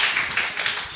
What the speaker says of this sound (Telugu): నమ్మిన వారు చప్పట్లు కొట్టండి